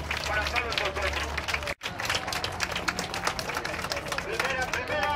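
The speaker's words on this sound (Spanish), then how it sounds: "le doy las gracias y un aplauso con ganas por ese amor" Crowd clapping in thanks at a pilgrimage gathering, brisk scattered applause with a brief dropout near the start, mixed with background voices and hubbub.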